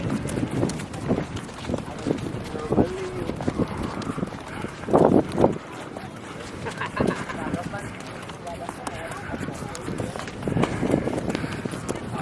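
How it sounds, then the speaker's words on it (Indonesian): A horse moves along a trail at Bromo, its hoof steps thudding irregularly beneath wind noise and people talking nearby. "bukan sepeda pak, kuda ini sangat liar ya"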